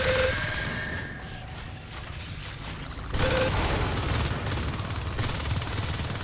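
Gunfire in Natural Selection 2 as marines fight, a dense stream of rapid automatic shots that gets louder and denser partway through, with mechanical clatter mixed in.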